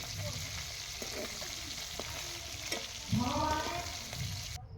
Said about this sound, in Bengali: এই যে রুই মাছগুলো, তার জন্য লবণ হলুদ মাখিয়ে ভেজে নিচ্ছি